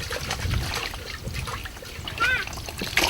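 Water splashing and trickling as someone washes with plain water and no soap, a steady close wet spatter with a few louder splashes and brief voices in the background.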